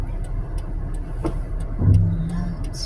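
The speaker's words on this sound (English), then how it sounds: "Lots of traffic." A car passes close by in road traffic, its engine and tyre noise rising and swelling briefly near the middle before easing off, with other vehicles audible around it.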